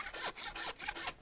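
A handsaw cuts through a pork hock bone in a few quick back-and-forth rasping strokes, close and brief, with no voices.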